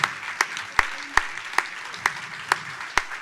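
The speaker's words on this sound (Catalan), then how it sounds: "Un aplaudiment." A round of applause from a small crowd, steady clapping with a few sharper claps standing out, moderately close.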